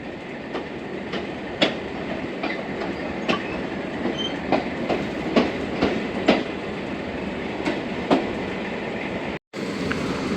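The 15Up Karachi Express runs near Sahiwal with a loud, continuous rumble and rhythmic clickety-clack of wheels over rail joints, the beats coming every second or so, with a brief dropout near the end.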